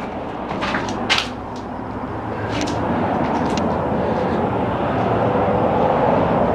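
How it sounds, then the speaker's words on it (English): Steady roar of freeway traffic passing beside an abandoned garage and rest area in California, a broad continuous wash that grows slightly louder, with a brief clunk near the start. "I'm right by the freeway, so this might be loud"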